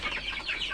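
Chickens kept in a poultry coop give a brief burst of soft, fairly close clucks over a low background hum.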